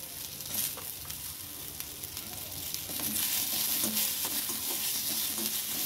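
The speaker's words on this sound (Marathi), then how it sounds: "तर त्याच्यामध्ये आपल्याला लसूण आणि अद्रक हे टाकून द्यायचे, ते पण परतायला." Garlic and ginger fry with softened onion in a pan for a mixed vegetable dish, giving a soft, continuous sizzle with stirring scrapes that grows somewhat louder and brighter in the second half.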